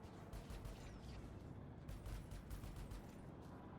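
Ship multi-cannons fire in the Elite Dangerous space combat game, a dense rapid rattle of shots with mechanical clatter, steady and continuous, with no talking.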